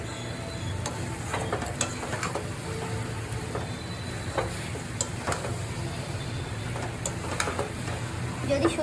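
A thick coconut and jaggery mixture for narkel naru is stirred in a pan, with a spoon scraping and clicking in irregular strokes over a faint steady sizzle, close and moderately quiet.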